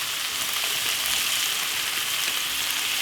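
Marinated chilli king prawns frying in a pan with vegetables, giving a steady, close, even sizzle that hisses on without pause and with no voices.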